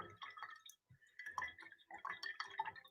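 A paintbrush is rinsed in a water cup, giving quiet, close sloshing and dripping with light taps of the brush against the container, in short irregular bursts.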